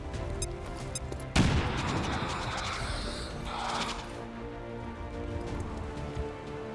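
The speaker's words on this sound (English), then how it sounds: "Throwing grenade." Video game combat: a sudden grenade blast bursts out over a steady mechanical rattle and gunfire. A dense noisy rumble follows and slowly fades.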